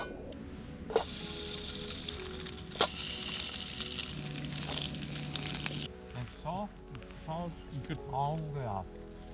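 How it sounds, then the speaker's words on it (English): Square sausage sizzles in a pan over a campfire on the Isle of Arran coast, a soft, steady hiss with sharp pops, then people start talking over the fainter frying. "We got the fire started and then started cooking up some rare square sausage"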